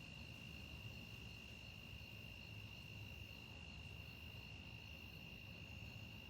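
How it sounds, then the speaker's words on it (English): Steady high cricket chirping fills a night scene outdoors, a continuous shrill trill holding through the whole stretch over a low rumbling background, with no talking. "I don't know if y'all can hear the crickets"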